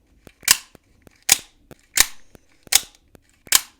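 Five sharp snapping clicks spaced evenly, each a loud crisp mechanical snap with a softer click between, as a Benchmade Shootout OTF automatic knife blade fires hard and retracts.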